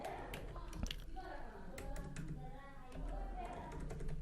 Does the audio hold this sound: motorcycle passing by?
no